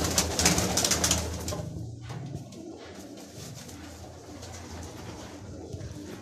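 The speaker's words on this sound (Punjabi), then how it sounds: "ਇਹ ਗੋਲਡਨ ਕਬੂਤਰ ਹੈ, ਠੀਕ ਹੈ, ਪਿਓਰ ਗੋਲਡਨ ਕਬੂਤਰ ਨੇ।" Golden pigeons kept by a Lahore pigeon fancier coo close by in soft, repeated throaty calls, busier at first and then settling into quieter cooing, with no speech.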